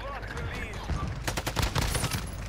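Rapid gunfire bursts in Call of Duty Modern Warfare 2, clustered shots cracking in quick succession at moderate loudness, with a voice talking faintly over the action.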